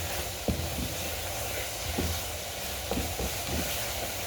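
Spices sautéing in hot oil in a pan for a hilsa fish curry with green banana, a steady close sizzle broken by a few light spoon scrapes and taps while stirring.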